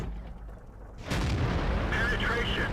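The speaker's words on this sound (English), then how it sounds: "I'm just gonna put a shot in his back." A T-34-1 medium tank fires its main cannon in a tank video game, a sudden loud boom about a second in that holds into a sustained rumble of battle noise, with an earlier quieter background beforehand.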